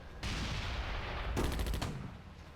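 Troops open fire in the wargame Attack at Dawn: North Africa, a dense burst of gunfire lasting about two seconds, with a rapid rattling volley near the end before it fades.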